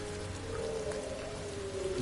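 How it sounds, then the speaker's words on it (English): Rain falls in the video game Sky: Children of the Light as a dense, steady hiss of droplets with a faint low tonal hum underneath, with no pauses over the short stretch. "I can see it with the rain droplets falling down"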